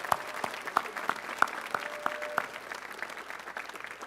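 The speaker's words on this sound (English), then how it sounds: "One more round of applause for Kevin and Selena" At a high school honors assembly, sparse, distinct claps ring out one by one at a slow, fairly regular pace, a few sharp hits followed by quieter ones that fade toward the end, as if from a few people only.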